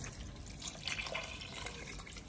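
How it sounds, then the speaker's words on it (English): Water pours into a soup pot of Jamaican goat head soup with spinner dumplings, a faint continuous splashing and trickling close by with no talking. "We added more water."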